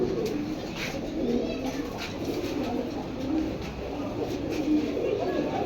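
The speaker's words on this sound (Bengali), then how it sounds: "এক সিলভার কবুতর দেখার মতো" Silver pigeons coo in low, rolling, repeated calls close by, with a faint murmur of background voices underneath.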